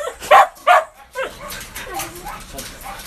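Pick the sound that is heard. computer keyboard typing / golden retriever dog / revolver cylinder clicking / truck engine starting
golden retriever dog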